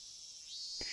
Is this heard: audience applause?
no